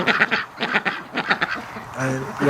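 Pet ducks quacking at home, several short nasal calls in quick bursts at close range, with a person talking over and between them.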